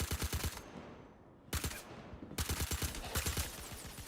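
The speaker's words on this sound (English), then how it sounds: "I hear gunfire over by Brevity." Rapid automatic gunfire bursts in the video game Star Citizen, with several clustered volleys separated by short pauses, sharp and fairly close.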